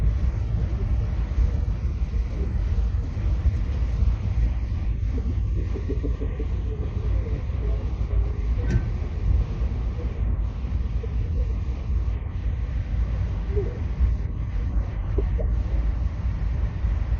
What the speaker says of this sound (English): we have a long train today